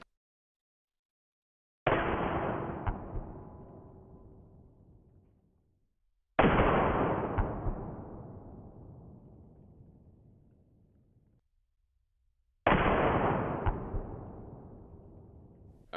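Three loud, booming gunshots fired point-blank at a hardened steel anvil, spaced several seconds apart, each followed by a long, fading rumble of echo in an otherwise silent outdoor ranch space.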